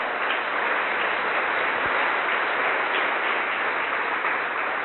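A church congregation applauds together in a steady, dense wash of clapping that holds evenly throughout without any voices rising above it.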